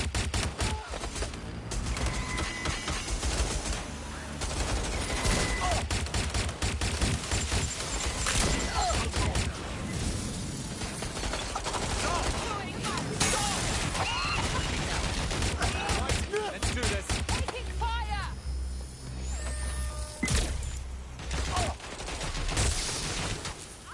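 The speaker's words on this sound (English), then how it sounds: "Suspect has opened fire!" Gunfire in the Watch Dogs Legion video game: dense, continuous bursts of shots and fusillades over a loud, busy mix of music and effects, with voices shouting throughout.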